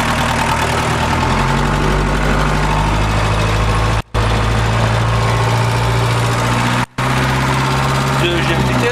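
Mercedes 508D van diesel engine pulling away in first gear, a loud, close, rough droning clatter that runs continuously with two brief dropouts, while a voice speaks over it.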